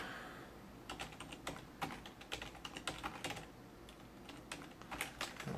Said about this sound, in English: I am just going to write the words herf and derf over and over again.